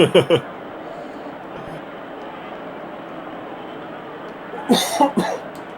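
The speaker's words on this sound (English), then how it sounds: "Speaking of plague, coughing." A few sharp coughs burst out close up at the start, then after a stretch of low background hum a second cluster of coughs comes near the end.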